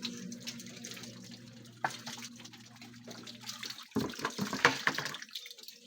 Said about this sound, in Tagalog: Nag-uumapaw na yung tubig.